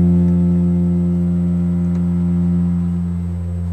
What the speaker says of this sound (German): wenn man zum Beispiel ein Register langsam zieht und der Ton erscheint allmählich lang. Vom Rauschen bis zum Ton.